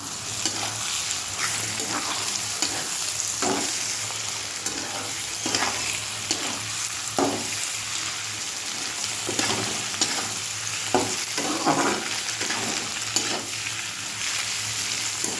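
Vegetables with carrot and two cracked eggs stir-fry in a pan, a steady close sizzle broken by repeated scraping strokes of a spatula, with no talking.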